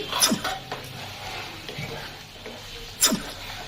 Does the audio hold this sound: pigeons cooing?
no